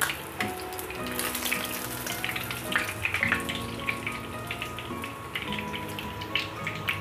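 Tilapia frying in a wok pan, a steady crackling sizzle with scattered pops and spatters running throughout, close and fairly loud, with low background tones underneath.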